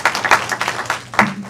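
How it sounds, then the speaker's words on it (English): Congregation at a memorial service clapping hands together, uneven bursts of claps rising and falling in loose rhythm, fairly close and loud. "Just clap your hands and let's give God glory."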